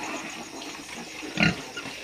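A sow grunts once, briefly and fairly close, on a quiet night just after giving birth to piglets, with soft background hiss around the single sound.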